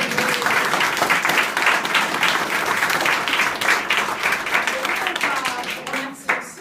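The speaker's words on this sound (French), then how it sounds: "Ben écoutez, je crois qu'on peut l'applaudir." An audience at an art exhibition opening in Champniers, France, applauds. Sustained, close, dense clapping with a few voices mixed in fades slightly near the end.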